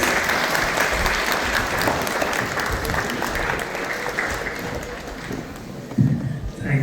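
An audience at a Sunday feast lecture at ISKCON Toronto breaks into sustained applause, steady crowd clapping with a faint voice surfacing briefly near the end.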